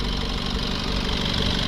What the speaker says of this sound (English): once you let the engine idle for a minute and warm up